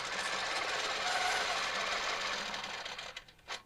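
A long-arm quilting machine stitches a quilt around a 4-inch clamshell ruler, a dense, fast, steady whirring hum that slows and stutters to a stop in the final half second.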